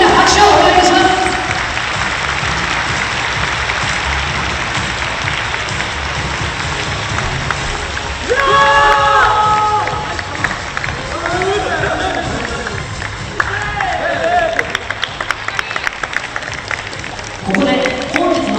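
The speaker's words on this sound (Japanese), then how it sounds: "皆様、両選手に大きな拍手をお願いいたします。" Dense, sustained applause from the arena crowd after a T.League table tennis singles match between Kinoshita Meister Tokyo and Kanazawa Port at Yotsuba Arena Tokachi, steady throughout with a few brief tonal sounds rising over it midway.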